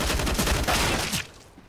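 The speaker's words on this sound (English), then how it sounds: "Capers with the reply with the AWP as well" Gunfire in a Counter-Strike: Global Offensive match: a rapid burst of loud, close shots crackles for about a second before cutting off into quiet.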